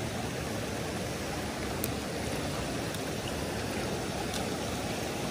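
Small mountain stream near an abandoned village, flowing in a steady, even rush of water with no voices.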